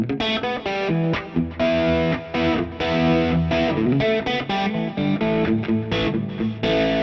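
Electric guitar on a split-coil sound with the volume knob rolled back, played in a rhythmic, chordy pattern with some grit, steady and fairly loud, no talking.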